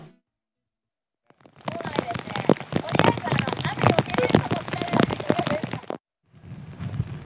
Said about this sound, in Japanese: 現場では早朝から雨が降ったり止んだり、雨が降るたびに作業を中断します。